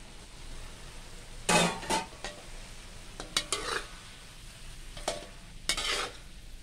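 Fried tofu and holy basil leaves are stir-fried in a pan: a soft background sizzle is broken by several sharp, scraping spatula strokes that come in short irregular bursts, close and fairly quiet.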